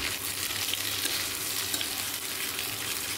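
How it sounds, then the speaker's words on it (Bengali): Cauliflower pieces frying in hot, bubbling oil previously used for frying shrimp, a dense, continuous close sizzle with no voices. "কপিগুলো ওর মধ্যে দিয়ে ভেজে নিচ্ছি।"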